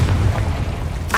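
Confringo fire spell exploding in Hogwarts Legacy, a single loud, rumbling blast with a dense roar, ending in a brief crackling burst.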